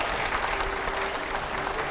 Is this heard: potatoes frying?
no